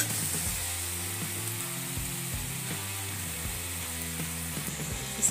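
Vegetables frying in a pan for veg Manchurian as tomato sauce and green chilli sauce are stirred in, giving a steady sizzle with scraping, clicking utensil sounds throughout, no voices.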